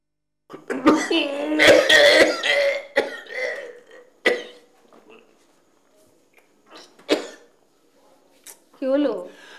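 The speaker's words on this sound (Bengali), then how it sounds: "আমি কদিন ধরে দেখছি তোমার কাশিটা কিন্তু কমছে না।" A woman coughs persistently in a domestic scene from a Bengali film, with several harsh, close bursts and throat clearing spread across the stretch, separated by short pauses.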